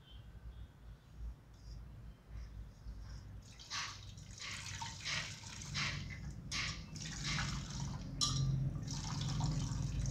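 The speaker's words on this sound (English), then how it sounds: "Now I will be extracting the juice using a clean muslin cloth" Ginger and onion juice drips and trickles through a muslin cloth, with soft, irregular liquid patters and squeezing sounds that are quiet and close, and no one speaks.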